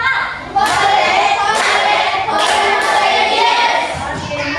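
A classroom of students performs a 'tepuk semangat' spirit clap, with loud rhythmic bursts of hand clapping and a few thumps repeating in quick sets, accompanied by some voices.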